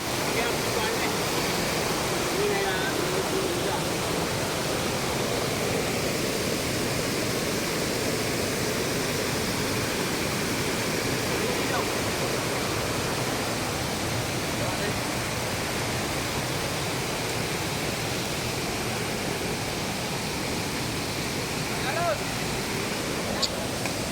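Rushing water at a waterfall, a steady, dense roar of falling water that continues without a break, fairly soft and distant-sounding throughout.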